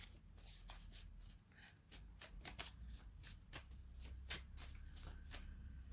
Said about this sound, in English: just reshuffle those.